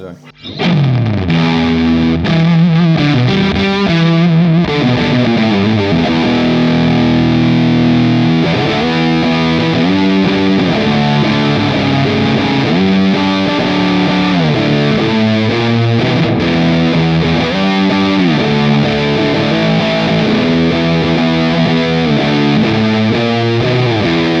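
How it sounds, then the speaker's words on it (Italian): An electric guitar plays through a Crazy Tube Circuits amp-in-a-box distortion pedal with a grainy, loose Orange-style crunch. Sustained chords and riffs ring loud and continuous for the full stretch. "Ha proprio il carattere dell'Orange, è quella distorsione un po' sgranata, non è precisa"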